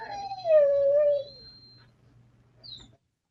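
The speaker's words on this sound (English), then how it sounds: "That's my dog, and sometimes she sounds like she's a cow, a dying cow." A pet dog lets out a drawn-out, moaning howl that slides downward and fades, followed by a brief high yelp, alone in a quiet room with a faint low hum underneath.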